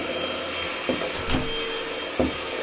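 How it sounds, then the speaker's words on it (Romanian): A vacuum cleaner fitted with a light runs with a steady droning whine, close by, with a few brief bumps and knocks as it is moved around during tree decorating. "Tare mult mă ajută lanterna asta de la aspirator"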